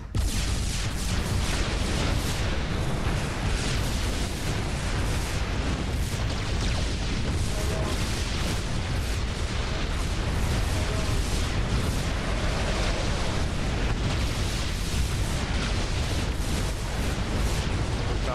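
A torpedo attack with dense, continuous rumbling explosions and bursts, loud and sustained throughout, with a voice faintly present.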